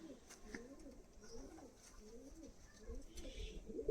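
Pet pigeons coo softly close by in a short run of low, rolling throaty calls that repeat without pause at a quiet level.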